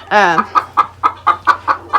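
A penned hen lets out one loud squawk, then a steady series of short, evenly spaced clucks, close and alone with no talk.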